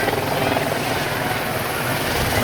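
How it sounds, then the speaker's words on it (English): A helicopter hovers overhead at an outdoor Easter egg drop of 10,000 eggs on a windy day, its loud, steady rotor roar filling the whole stretch without letting up. "Okay, so there's the helicopter."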